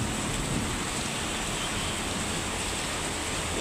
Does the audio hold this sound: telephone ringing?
no